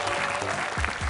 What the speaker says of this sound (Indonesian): Tepuk tangan untuk tim C.